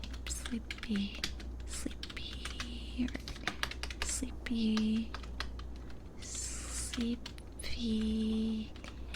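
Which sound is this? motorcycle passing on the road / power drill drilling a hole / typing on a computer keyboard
typing on a computer keyboard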